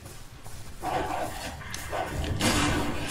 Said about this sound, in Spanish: Perro, a la vista.